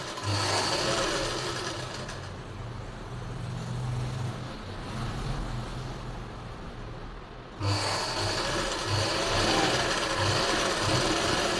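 A sewing machine stitches a silk suit in a tailoring workshop, with a continuous close, loud whirring motor and rapid needle chatter that runs steadily and eases briefly before picking back up to full speed, with no talk.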